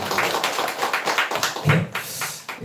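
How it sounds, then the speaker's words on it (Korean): A church congregation at a Sunday service applauding, a scattered patter of claps rising and falling in uneven bursts, fairly close and without talk. "박수."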